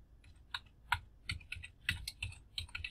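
Keys on a computer keyboard are tapped out in a quick, irregular run of clicks while a command is entered, close and fairly quiet, with no talking.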